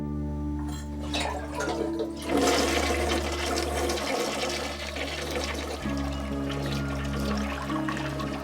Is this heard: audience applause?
no